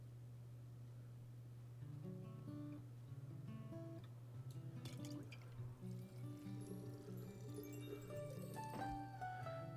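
Liquid pouring and dripping in the Tavern Talk video game, a steady trickle with soft droplets and small clinks over a constant low hum of background game music.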